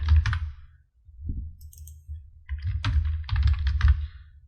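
Fingers tap quickly on a computer keyboard while editing text in Adobe AI Express, close and clear, in brisk clusters of clicks with short pauses between bursts.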